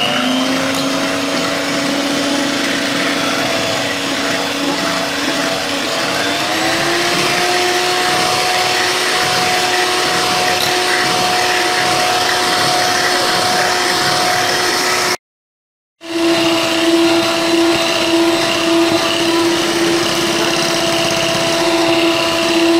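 An electric mixer whips 500 g of unsweetened cream with a loud, continuous motor whine that shifts pitch slightly partway through, cuts out for about a second, then resumes steadily.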